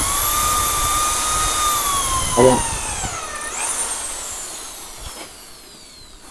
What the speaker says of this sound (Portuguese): furadeira,